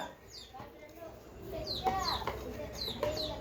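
A baby chicken that has fallen down inside a pipe gives thin, high, repeated peeps that echo faintly, while people talk nearby.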